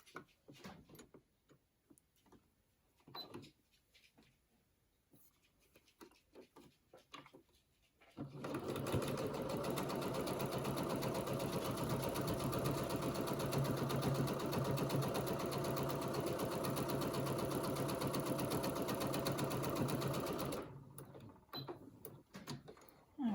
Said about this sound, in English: And then I will sew along here.